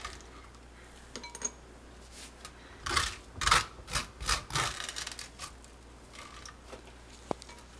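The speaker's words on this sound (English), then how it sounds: "So now I'm just going to take a spoon and we're going to scrape out all those seeds and pulp that you have on the inside there." A metal spoon scrapes seeds and stringy pulp from the inside of a halved spaghetti squash in a short run of close, rasping strokes, fairly quiet, with no talking.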